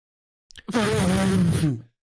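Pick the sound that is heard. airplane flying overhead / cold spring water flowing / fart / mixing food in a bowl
fart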